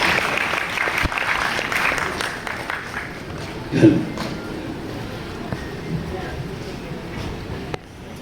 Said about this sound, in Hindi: तालियों की आवाज़ है ये बंद नहीं होना चाहिए first of all